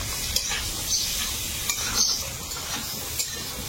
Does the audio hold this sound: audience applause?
no